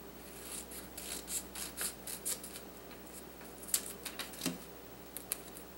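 Scissors snipping through paper or card, a string of short, crisp cuts in an uneven rhythm, close up and fairly quiet with no talking.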